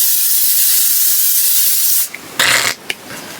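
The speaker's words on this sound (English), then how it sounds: "This is the Infallible Makeup Scent Spray." A L'Oreal Paris Infallible makeup scent aerosol spray hisses in one long burst from a can held close, then gives a short sharp puff, with a steady high hiss before them.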